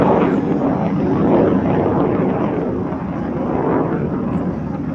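MiG-17F fighter jet flying at an air show, a broad steady roar with slow swells, heard from a distance with no talk over it.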